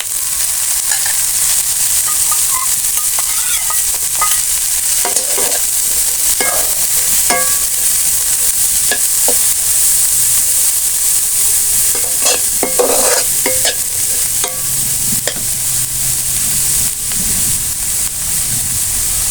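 Shredded cabbage stir-frying in a hot pan, a loud continuous sizzle and hiss with scattered scraping clicks from stirring throughout.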